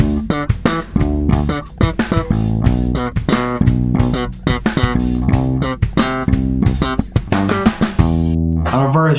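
Bass guitar playing a groove built on G and its octave with ghost notes: a steady, punchy run of short plucked notes in a driving rhythm, loud and close, alone without talk.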